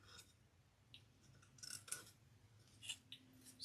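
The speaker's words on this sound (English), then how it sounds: "So, I'm using my curved embroidery scissors." Curved embroidery scissors snip close to machine embroidery, giving a few faint, quick, crisp cuts at scattered moments over a low, quiet background with no voices.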